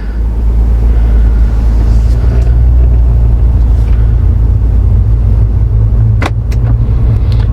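A car driving along a road, recorded from inside the cabin during a test drive, with a loud, steady low engine and tyre rumble that continues throughout and no talking.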